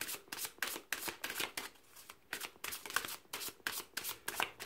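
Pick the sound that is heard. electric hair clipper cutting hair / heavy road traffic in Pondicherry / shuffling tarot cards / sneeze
shuffling tarot cards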